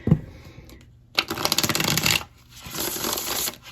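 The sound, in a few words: tarot cards being shuffled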